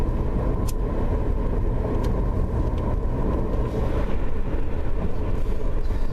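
A car driving on the road, its steady engine and tire rumble filling the cabin continuously at close range, with faint passing whooshes now and then and no talk.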